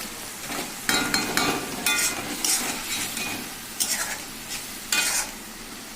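Paneer being stirred with spices, salt and turmeric in a hot pan, with loud, rhythmic scraping strokes of a spatula every second or so over a soft frying sizzle, close and without speech.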